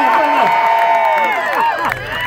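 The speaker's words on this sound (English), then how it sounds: "thank you for clapping louder" An audience claps and cheers at a live band show at Commonwealth Brewery, a dense, steady wash of applause with shouts and whoops rising over it throughout.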